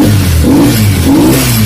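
A car engine roars steadily and loud, swelling in two revs up and back down over a continuous low drone, with no voices.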